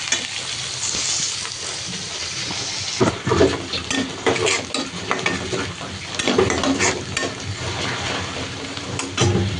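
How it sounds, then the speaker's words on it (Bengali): Vegetables and green chilies fry in a pan until light brown, a steady close sizzle broken by louder scraping stirs and clatters at intervals, with no voices. "সব কিছু আমি হালকা বাদামি কালার করে ভেজে নিলাম"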